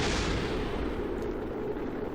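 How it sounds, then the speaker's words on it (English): Engines blow apart on a spacecraft in Kerbal Space Program, a loud continuous roaring rumble of explosions that fills the whole stretch without pause. "We got explosions happening."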